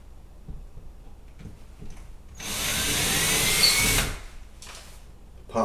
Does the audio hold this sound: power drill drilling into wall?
yes